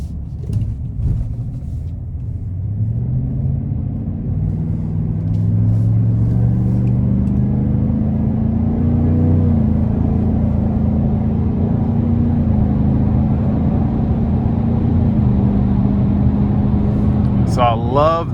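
A 2024 GMC Sierra 1500 AT4X pickup in sport mode accelerates onto an interstate, its engine giving a steady, aggressive low rumble that holds close and loud throughout, without climbing high in revs.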